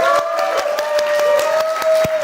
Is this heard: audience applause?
yes